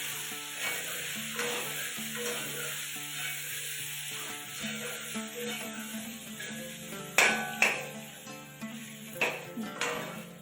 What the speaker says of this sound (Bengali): এখন আদাটা দিয়ে আলুর সঙ্গে ভেজে নেব।